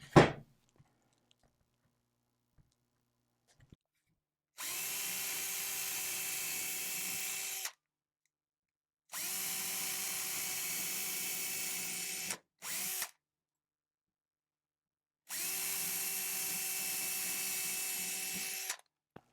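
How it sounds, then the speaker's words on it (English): Power drill boring pilot holes for a homemade cup turner, three separate loud whirring bursts of a few seconds each plus one very short one, separated by silence, after a knock at the start. "Now, just going to do 3 pilot holes inside of the second set of lines"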